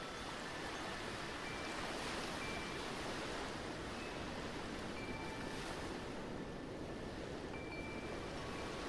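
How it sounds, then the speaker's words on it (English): Ocean waves lap at a beach shoreline at sunset, a steady, soft, broadband wash of surf with no clear breaks between swells, fairly faint and continuous, with no talk. "you let the ocean waves softly lap up to your ankles"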